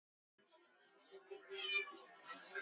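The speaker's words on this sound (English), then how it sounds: "Did you hear that? That was a cat." A neighbour's cat meows at the door, a faint, short, distant mew rising out of quiet room tone.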